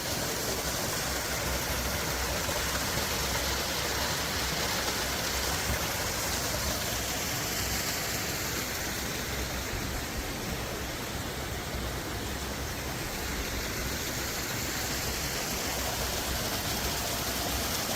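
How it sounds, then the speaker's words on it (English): Waterfall at the end of Ice Box Canyon in Red Rock Canyon, Nevada: a steady, even rush of falling water that fills the air, constant and unbroken with no voices. "Yeah, there's the waterfall at the end."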